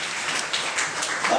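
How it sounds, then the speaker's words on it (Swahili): A church congregation claps for Jesus during a sermon, giving a dense, steady burst of applause from many hands throughout, with no voices on top. "Hebu mpigie Yesu makofi mpaka hapo basi"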